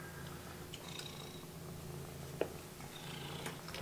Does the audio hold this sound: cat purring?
yes